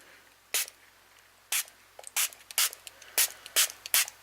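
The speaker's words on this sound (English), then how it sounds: "I'm just going to take a regular water bottle with a little spray thing." A spray bottle fires about nine short, hissing spritzes close by, spaced irregularly and coming quicker toward the end, with quiet between them.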